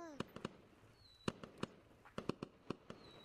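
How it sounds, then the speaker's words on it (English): Fireworks popping and crackling in Gorilla Tag during its Fourth of July event, a quick irregular string of sharp bursts with faint whistles, fairly soft. "Yeah, fireworks."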